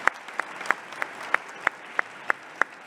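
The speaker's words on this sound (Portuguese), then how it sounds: "os aplausos para isso" An audience at the 2021 Bienal do Livro book fair claps during a talk on Carolina Maria de Jesus: sharp, evenly spaced claps in a steady rhythm, about three per second, over a low crowd murmur.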